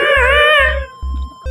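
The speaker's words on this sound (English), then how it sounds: "Wait, I'm gonna go and check the cat." A cat in the video game Yume Nikki gives one clear, close meow, followed by short rhythmic low thumps from the game.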